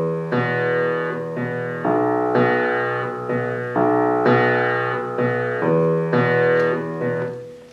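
A piano's left-hand part played alone, two voices moving in chordal groups with syncopation on the beat, each group's first beat slightly stressed; steady, close and clear with no talking.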